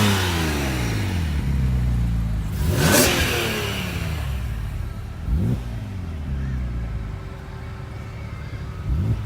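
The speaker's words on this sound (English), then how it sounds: "So we have another Huracan Spider coming in." Lamborghini Huracan Spider supercar arriving at an exotic car rally and show, engine revving loudly and droning with rising and falling pitch sweeps as vehicles pass nearby on an overcast day.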